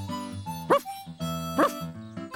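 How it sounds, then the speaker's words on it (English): Two sharp barks from a sheepdog stand out over a sustained musical background, spaced roughly a second apart. "Collie had a very loud bark."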